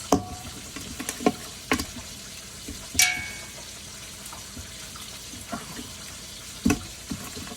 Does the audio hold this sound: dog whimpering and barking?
no